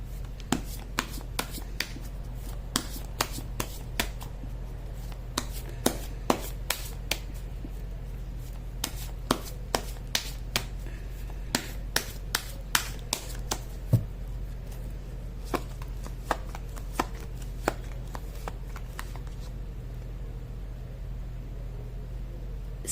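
A tarot card deck is shuffled by hand, giving a long run of crisp, irregular card snaps and flicks, close and fairly quiet, over a faint steady room hum.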